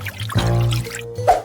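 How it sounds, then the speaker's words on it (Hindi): Sugar and water being poured into a cooking pot on a stove to make candy, heard as a brief trickling pour with a low hum behind it and a soft clunk near the end. "अब चीनी, पानी, सब कुछ अच्छे से मिलाना है"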